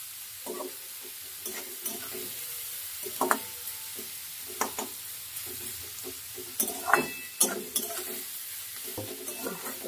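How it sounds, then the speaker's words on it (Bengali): Chopped onion stirred and fried in a pan over a low gas flame gives a soft, steady sizzle, broken by intermittent scraping strokes of the stirring spoon, with no voices. "পেঁয়াজটাকে নাড়াচাড়া করে নরম করে নেব।"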